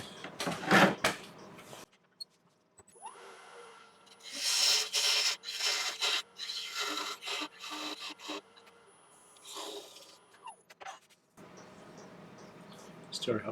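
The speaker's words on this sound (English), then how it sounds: "You want to be looking at me sanding this" Sandpaper rubbing against a wood-turned piece spinning on a lathe, a soft scratchy rasping that comes in uneven strokes and bursts, fairly quiet and close.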